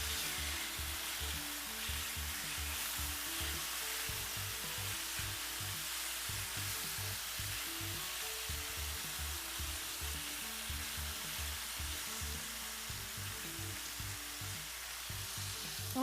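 Chicken browns in a hot pan, sizzling in a steady, continuous crackle with low rhythmic thumps underneath, close and fairly loud, with no voices.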